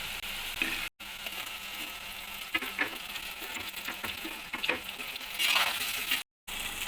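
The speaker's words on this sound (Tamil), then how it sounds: "கத்திரிக்காய் நல்லா எண்ணெயிலே வதங்கணும்." Masala-coated brinjal sautés in oil with onions and curry leaves, a steady close sizzle with soft stirring scrapes and light spatter, briefly cutting out twice.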